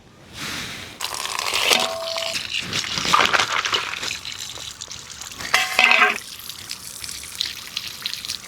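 Cut crabs are washed in water for a village-style crab dish, with splashing, trickling and crunchy shell clatter as the pieces are handled, close and fairly loud, with faint talk.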